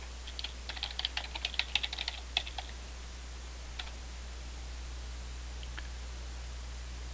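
Quick bursts of clicking keystrokes on a computer keyboard as a model name is typed, close and soft, then a few isolated taps before quiet room hiss.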